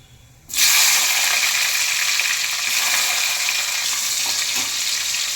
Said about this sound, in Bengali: এবারে আমি টমেটোটা দেব।